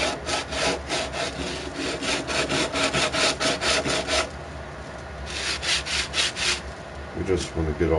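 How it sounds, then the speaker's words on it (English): Wood being sanded in a PlayStation 4 video game gives a steady series of close, rhythmic rubbing strokes, loud and scratchy, with a short pause midway and no talking. "Give it a light sanding."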